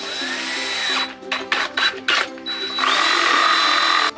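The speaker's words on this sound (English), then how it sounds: "I need to drill a hole in the bottom of this receptacle box" A power drill bores a hole through the bottom of an electrical receptacle box during a van build, whining in several short bursts with pauses before a longer steady run near the end.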